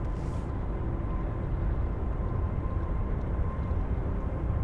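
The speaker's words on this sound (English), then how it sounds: "the something's spooling up down the south end here, and it can be no other than the Emirates A380" An Emirates A380 spools up for takeoff at the south end of a runway at Sydney Airport at night, its engines a steady, distant low roar that holds evenly throughout.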